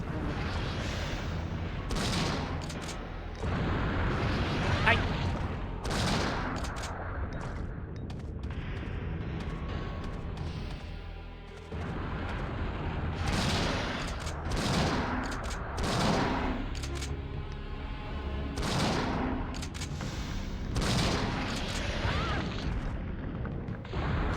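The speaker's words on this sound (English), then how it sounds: "I'll use the enhanced shotgun." Repeated heavy shotgun blasts from an enhanced shotgun in a video game, loud booming shots at irregular intervals over a dense, rumbling game soundscape, with no talking.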